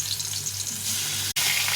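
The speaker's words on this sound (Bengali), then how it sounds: "এখন ভেজে নেব।" Bata fish frying in a pan gives a close, steady crackling sizzle over a low hum, broken by a brief gap near the end.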